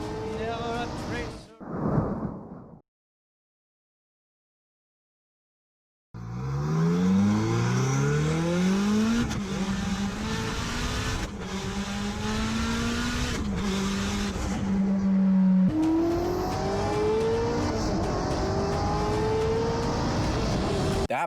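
An SSC Tuatara supercar with a boosted V8 revs hard, engine pitch sweeping up repeatedly through gear changes at close range, loud and sustained after a brief burst and a silent gap.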